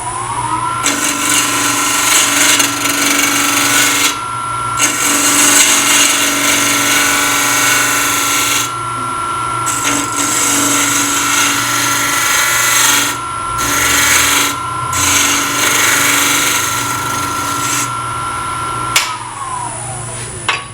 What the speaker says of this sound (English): I'll go back to my bowl gouge.